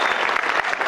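An audience claps in a dense, continuous wave of applause, loud and close, filling the whole brief moment without pause.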